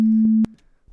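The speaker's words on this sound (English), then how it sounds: "have two sine waves and one of them is panned right and one is panned left" A steady pure sine-wave test tone holds at one pitch for about half a second, then cuts off abruptly, leaving near silence.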